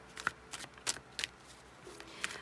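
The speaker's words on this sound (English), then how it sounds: "So I'm going to shuffle on camera" Tarot cards from a Last Unicorn deck being shuffled by hand, a series of short crisp riffles and flicks spaced irregularly over quiet background, no talking.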